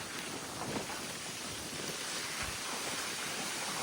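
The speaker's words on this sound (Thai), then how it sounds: "เป็นลมแห้งแท้" Dry wind blowing outdoors, a continuous broad rushing roar with low buffeting gusts against the microphone, steady and moderately loud with no voices.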